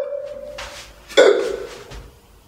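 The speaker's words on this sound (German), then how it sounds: "Ich habe Schluck auf." A person gives a single sharp hiccup, close and fairly loud, following a brief hummed tone and trailing off into quiet.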